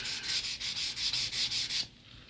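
Sanding pad lightly scuffing a clear-coated surface, a run of about ten quick rhythmic rubbing strokes, close and steady, before stopping abruptly into near silence.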